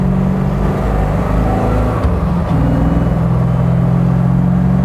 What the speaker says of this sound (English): And that big old lazy engine just revving away.